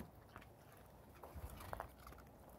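A dog crunches and chews ice on an outdoor deck, with a few sharp, irregular bites and crunches heard up close against a quiet background.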